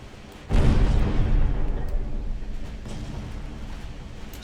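A torpedo hits a warship in the naval battle game Ultimate Admiral Dreadnoughts. One deep boom arrives suddenly, then a long rumble fades slowly. The blast is heavy and low, with no talk over it.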